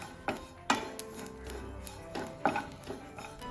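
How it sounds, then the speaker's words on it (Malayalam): A spoon scrapes and knocks against a hot pan while broken wheat is stirred over a high flame, giving scattered irregular clinks and scrapes up close. "ഹൈ ഫ്ലെയിമിൽ ഇട്ടിട്ട് തന്നെ കുറച്ച് സമയം ഒന്ന് ഇളക്കി കൊടുക്കുന്ന സമയത്ത് ഒന്ന് ഡ്രൈ ആയിട്ട് വന്നോളും"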